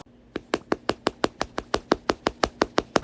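Bare hand thumping a microwave oven over and over, about fifteen sharp knocks in a steady quick rhythm, close and fairly loud with a faint steady hum underneath.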